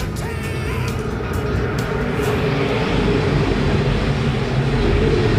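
IMCA modified race cars at Perris Auto Speedway roaring under green flag, a dense, steady engine drone that holds loud and close for several seconds, swelling slightly as the field accelerates.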